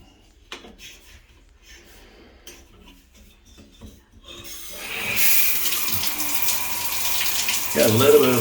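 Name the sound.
water running from a leaking faucet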